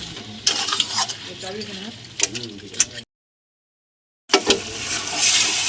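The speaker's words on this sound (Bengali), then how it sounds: "খুব ভালো করে কষাতে হবে, চাপা দিয়ে দিয়ে।" Mutton sautéing in a pan, pressed and stirred, gives close scraping and sizzling with metal knocks against the pan. The sound drops out completely midway, then returns with louder frying.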